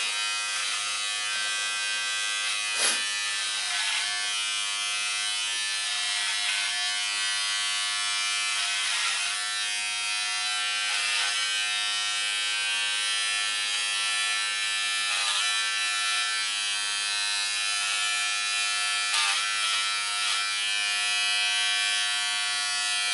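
Electric hair clippers buzz continuously up close while shaving hair on top of a head during a haircut, a steady motor drone with small shifts in pitch and brief scraping ticks as the blades pass through.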